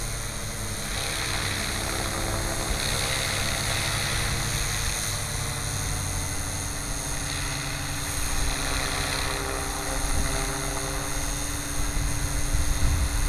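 A large Gaui model helicopter flying low and inverted, its rotor whine and engine hum droning steadily nearby, a high pitched buzz with a low thrumming beneath, swelling slightly toward the end.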